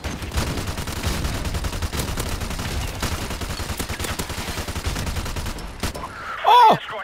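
An RPD machine gun fires in Modern Warfare Remastered, dense rapid bursts of close, loud gunfire that run continuously before stopping, followed by a short tonal game sound.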